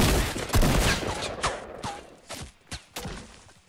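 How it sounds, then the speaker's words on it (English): Gunfire in the Fortnite battle royale video game crackles as a rapid fusillade of shots, loud and close at first. Scattered thumps and pops follow and gradually thin out. "someone's shooting me"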